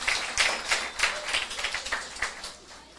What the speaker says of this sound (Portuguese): aplauda a Jesus, tome seu assento